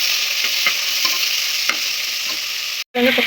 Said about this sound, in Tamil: வெங்காயம் பச்சை மிளகாயும் சேர்த்துக்கலாம் வெங்காயம் வதக்கும்